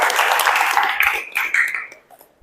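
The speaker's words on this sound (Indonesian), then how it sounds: "Tepuk tangan dulu untuk Daliari." Classroom applause for a student, a short burst of clapping from a group that tapers off within about two seconds, mixed with voices.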